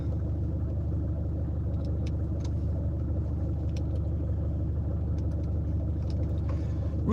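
A milk delivery vehicle drives slowly down the centre of a residential road lined with parked cars, its steady low engine and road rumble continuous and close throughout, with faint ticks and a brief rustle near the end.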